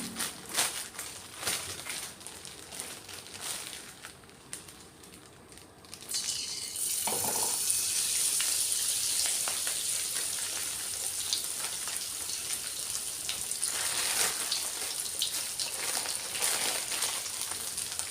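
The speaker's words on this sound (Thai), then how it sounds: "ทอดปลาเถอะค่ะ" Fish fries in a pan. After a few seconds of quieter handling noise, a loud close sizzle suddenly begins and crackles steadily to the end, swelling slightly now and then.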